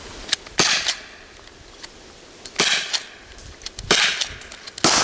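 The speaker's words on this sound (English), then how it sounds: "This is the first time firing this Byrna LE launcher, and yes, it's louder than I expected" A Byrna LE less-lethal launcher fires training projectiles: several sharp, loud pops at uneven intervals, some in quick pairs, each a crisp bang with a short tail over quiet background.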